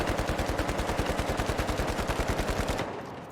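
Sustained automatic rifle spray from an uncontrolled recoil test in the shooter game The Finals, a steady rapid rhythm of loud close gunshots for nearly three seconds before stopping abruptly with a brief tail.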